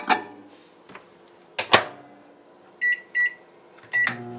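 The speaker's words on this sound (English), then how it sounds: "Goes into the microwave for 44 seconds at first." A microwave heating about 12 ounces of soap base in a carafe hums steadily at low volume, with a few clunks and knocks early on, then several short electronic beeps in quick succession.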